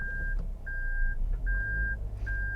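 A 2023 Toyota Veloz MPV in reverse gear sounds its reversing warning: three steady, evenly spaced electronic beeps that repeat without stopping, clear over a low engine hum.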